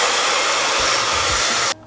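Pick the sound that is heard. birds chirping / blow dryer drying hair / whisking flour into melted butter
blow dryer drying hair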